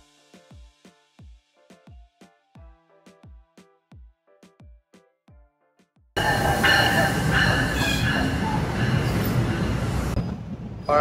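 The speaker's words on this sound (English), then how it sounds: "Alright, so the train is here" NJ Transit-style commuter train in New Jersey rolls into a station: rhythmic wheel clacks over rail joints, then a loud, sustained rush of the arriving cars with squealing wheels, close by.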